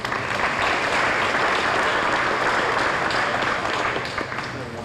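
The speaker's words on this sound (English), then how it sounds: "how about a round of applause for that delicious meal?" Audience applause fills a banquet hall at an awards banquet, a steady, dense wash of clapping from many people that holds loud throughout and tapers only slightly at the end.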